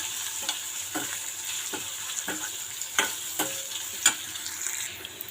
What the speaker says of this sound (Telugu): చూడండి, మనకు ఆనియన్స్ అనేవి బాగా వేగిపోయాయి కదా, ఇలా వేగితే చాలు